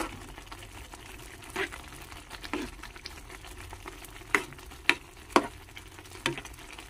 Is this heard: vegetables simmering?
yes